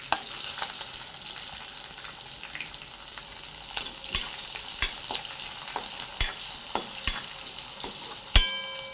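Finely chopped onion fries with garlic in a kadai, giving a steady sizzle throughout, with sharp scraping clinks from a stirring spoon that come more often toward the end.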